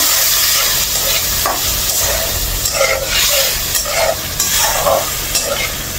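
Tomato paste masala for chital fish kalia sautéing in a pan, giving a steady close sizzle broken by repeated stirring scrapes and soft splutters throughout, with no voices.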